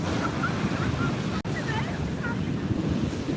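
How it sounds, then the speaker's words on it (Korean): Ocean waves wash continuously at Junggwang beach beside Hajodae beach, a broad, steady roar of surf mixed with wind buffeting the microphone, with no clear talk over it. "파도가 점점 강해지고 있어요"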